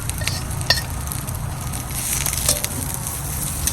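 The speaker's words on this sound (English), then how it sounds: "The pot is nice and hot, so let's put the lamb fat first." Lamb fat sizzles in a hot kazan pot, a steady, fairly loud frying hiss with small pops and a metallic clink or two, heard alone without talking.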